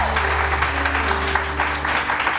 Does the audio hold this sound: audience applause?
yes